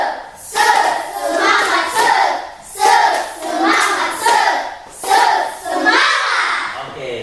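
Schoolchildren in a classroom perform a rhythmic spirit clap in three repeated bursts of patterned clapping mixed with chanting voices, loud and close, each phrase separated by short pauses.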